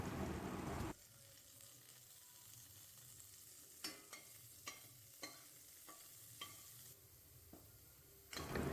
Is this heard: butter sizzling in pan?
yes